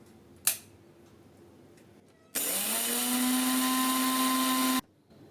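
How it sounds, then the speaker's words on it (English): Rava being ground finely in a mixer grinder: a sharp click, then a loud, steady high-pitched whine of the motor running for about two and a half seconds before stopping abruptly. "Now we can grind it finely."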